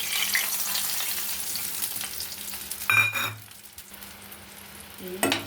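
Spice paste fries in a pan with a little water and is stirred, giving a steady hiss and sizzle. A louder clatter of the spoon comes near the middle, and another brief scrape comes at the end.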